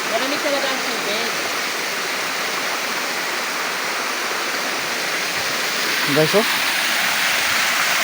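Steady broadband rush of Libtong Falls, a waterfall tourist spot with cold water, running continuously throughout; people talk briefly over the roar near the start and again around six seconds.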